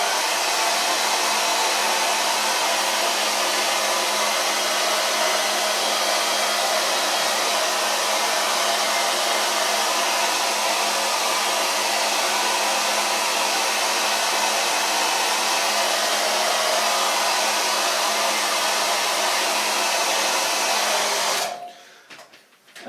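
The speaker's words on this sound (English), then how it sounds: "I'm just gonna finish off the drying and then we'll get on to the next stage." Hair dryer blowing at a constant loud whine while drying hair during a classic gentleman's haircut, steady and close for about twenty seconds before switching off at the end.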